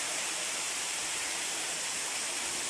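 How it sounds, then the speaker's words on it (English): Spring water flows continuously in the mountains, a dense, steady rushing hiss with no pauses and no voices. "Because in all seasons this water flows"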